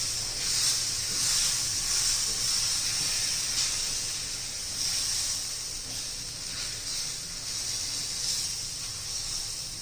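Sweet corn chila batter sizzles on an oiled pan, a steady bright hiss that carries evenly and close throughout with faint soft crackle beneath, no voices.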